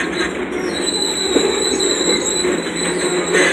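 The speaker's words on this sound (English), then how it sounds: "This train is coming from the mill up in Rumford, and it's en route to Fulton," Freight mill train running from Rumford toward Fulton, Maine, passing close and loud with a steady rolling rumble of cars, high sustained wheel squeal and occasional clanks.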